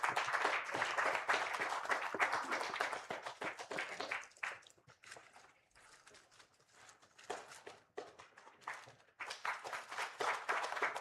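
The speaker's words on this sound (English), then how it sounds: "Once again, a big round of applause for him" An audience at a Hypertension Day health event in honour of a Chennai general physician breaks into scattered applause, moderate and somewhat distant, fading in the middle before swelling again.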